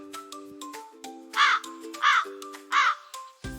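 A crow caws three times at a steady, evenly spaced rhythm, loud and close, over a light background tune.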